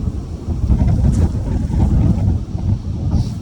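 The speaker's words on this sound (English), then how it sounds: "This is still so windy." Strong wind blows steadily in the aftermath of a windstorm, a loud, continuous low roar buffeting the microphone outdoors with no pauses and no talking.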